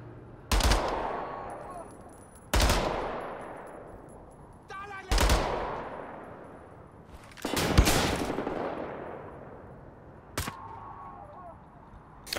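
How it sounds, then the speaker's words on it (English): Burst-fire gunshots from a rifle in the shooter game Wolfenstein: The New Order, five sharp loud cracks spaced a couple of seconds apart, each trailing off into a decaying echo. "Why am I burst firing?"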